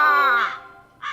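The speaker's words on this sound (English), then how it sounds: "I can never get used to the crows popping up in the randomness of this whole thing" A crow in the video game Root Letter gives two loud, harsh caws, a long one and then a shorter second after a brief gap, sounding close and alone with no talk over it.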